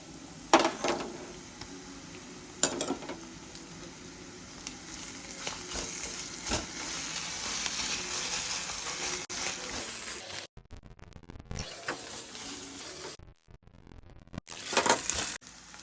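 Ginger garlic paste fries in hot oil, sending up a steady close sizzle with spoon clinks and scraping. The sizzle drops out briefly near the end and then returns.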